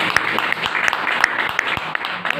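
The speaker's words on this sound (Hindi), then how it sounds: "जोरदार ताली होनी चाहिए।" Applause from a seated audience at a motivational talk, steady clapping with a few sharper individual claps standing out.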